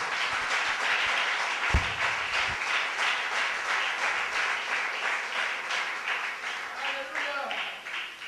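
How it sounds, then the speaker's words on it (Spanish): A church congregation claps as an offering of praise to God, a sustained wash of applause with a preacher's voice over it, a deeper thump or two early on. "dale ofrenda de palmas al Rey de Reyes"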